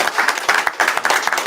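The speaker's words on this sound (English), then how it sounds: "Clap it up." An audience at an indoor class in Killeen, Texas, claps in a loud, close burst of applause with quick, irregular hand claps from a small crowd.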